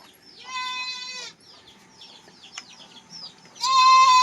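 Goats in a goat room, two of them sick, bleat in loud harmonic calls, one long cry near the start and another at the end, with fainter bleats and animal noises in between.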